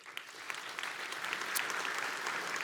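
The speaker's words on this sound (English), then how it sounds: "So a huge round of applause for the panel." A conference audience applauds a panel on energy security, a dense and steady round of clapping that builds slightly, heard at a moderate distance in a hall.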